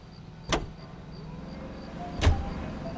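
Two sharp car door thumps in the video game L.A. Noire, about two seconds apart over a steady low engine idle, with a faint high whine throughout.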